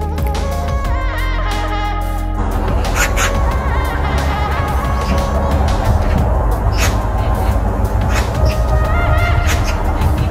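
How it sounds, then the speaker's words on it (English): Ducks quack and honk repeatedly in a loud, busy chorus of overlapping calls that continues throughout. "a video of ducks"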